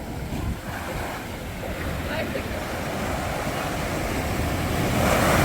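Strong ocean waves breaking on the beach at Haeundae in Busan, a continuous loud surf roar with wind buffeting the microphone, building toward the end as a wave rushes in; people talk faintly in the background.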